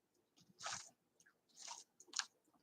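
Close, crunchy chewing of chips in three distinct bursts of crisp crunching separated by short pauses, with no talking over it.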